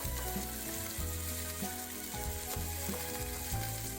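Half an onion fries in a soup pot, sizzling loudly while a spoon stirs it, with rhythmic scraping strokes about once a second over the steady crackle.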